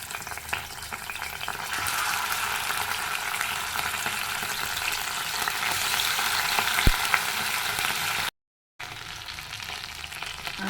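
Chicken pieces frying in leftover oil, a steady loud hiss of sizzling with faint stirring, continuous until a brief cut near the end, then resuming.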